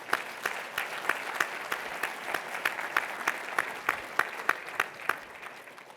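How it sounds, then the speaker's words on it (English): Audience clapping at a panel discussion, a steady round of applause with sharp individual claps standing out rhythmically, sustained and moderately loud throughout. "I think that's worth another round of applause."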